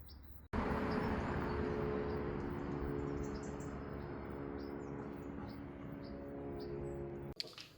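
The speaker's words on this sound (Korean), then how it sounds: "새소리 들려?" Faint, scattered bird chirps sound over a steady outdoor hum of distant traffic or machinery, with a couple of soft knocks near the start and end.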